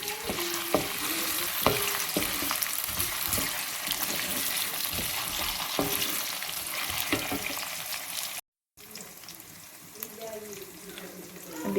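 Okra and potatoes fry in hot oil with a continuous crackling sizzle, while a spoon stirs with repeated clicks and scrapes. The sound cuts out briefly before resuming more quietly.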